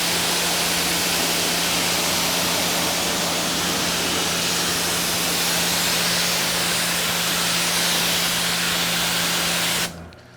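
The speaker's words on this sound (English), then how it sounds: "All right, spray it off." Steady, loud hissing spray of water rinsing off a vehicle, continuous for about ten seconds before cutting off abruptly.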